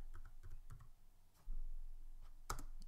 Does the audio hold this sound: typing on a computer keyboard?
yes